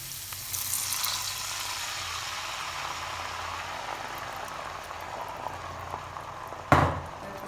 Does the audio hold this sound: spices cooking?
yes